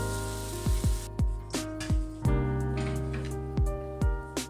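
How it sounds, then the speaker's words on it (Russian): Vegetables sautéing in hot oil in a frying pan for pork and vegetable cutlets give a loud, steady sizzle, broken by several sharp clinks and scrapes of stirring, with no talking. "На разогретом масле пассеровать овощи до их мягкости."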